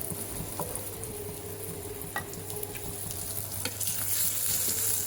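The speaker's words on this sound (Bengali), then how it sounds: "তো টমেটো দিয়ে ভালো করে একটু নেড়ে দেব, নাহলে নিচে লেগে যায়।" Tomatoes stirred into a pot of boiling dal: a steady bubbling simmer close up, with a spoon scraping and knocking against the pot, growing a little louder toward the end.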